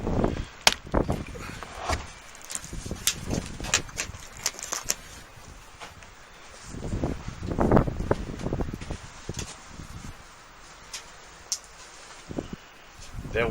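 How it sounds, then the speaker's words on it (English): Wind gusts outdoors on a homestead where meat is being smoked, rumbling and buffeting against the microphone in uneven surges, with voices faintly in the background. "that wind blowing"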